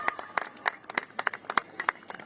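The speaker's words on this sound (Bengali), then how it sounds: "একটা চড়ে হাততালি হয়ে যাক।" A small group claps in a steady burst of sharp, separate hand claps, close by, with faint voices underneath for about two seconds.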